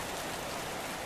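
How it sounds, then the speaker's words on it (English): Rain in the video game Path to Nowhere makes a brief, steady, full-bodied hiss of falling water, even and unbroken with no voices. "Icy rain drenched her from head to toe."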